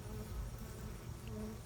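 Honeybees crowded on the comb inside a hive make a steady, close droning hum that holds without a break. There is no speech.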